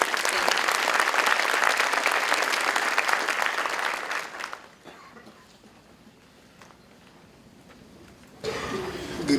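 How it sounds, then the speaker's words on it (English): Audience applause at an academic awards ceremony, a dense burst of clapping for about four seconds that fades to quiet murmur, then a fresh swell of clapping near the end. "join me in giving her a round of applause"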